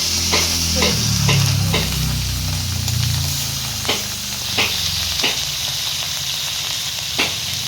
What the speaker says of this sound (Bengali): তেল গরম হয়ে গেছে, এরপর আমি মাছগুলো ঢেলে দিচ্ছি।